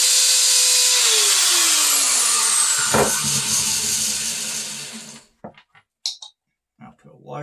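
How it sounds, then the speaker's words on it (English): A power drill runs continuously up close, its whine dropping in pitch as it bites in, then winds down and stops, followed by a few light clinks. "drill a hole in there."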